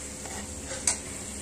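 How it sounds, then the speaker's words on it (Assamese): Coriander powder, salt and turmeric frying in a pan, a soft steady sizzle with a light spoon clink, close and quiet. "ধনিয়া গুড়ি, নিমখ, হালধি এইখিনি দি পেলাই অকণমান এইখিনি ভাজি লৈছো"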